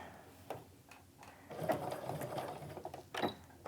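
A sewing machine stitches across a wristlet seam in quick bursts with short pauses between runs, moderately close and fairly quiet, with no talk over it.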